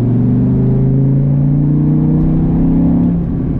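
Gen V Dodge Viper V10 engine pulling hard in third gear from about 2,500 rpm, a loud, steady low rumble with rising harmonic tones that holds close for a few seconds, then eases slightly at the end.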